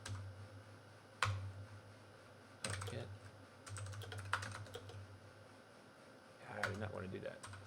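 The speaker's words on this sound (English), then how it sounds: "I'm still typing the wrong freaking thing." Bursts of computer keyboard typing sound close by, with a few separate clicks breaking into quick clattering runs. A man mutters between and over the keystrokes.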